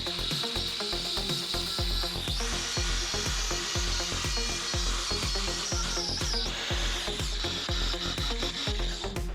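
A power carving tool chews into a log with a rapid, rhythmic rasping grind, loud and close, its high-pitched whine shifting slightly as the speed varies, with no talking.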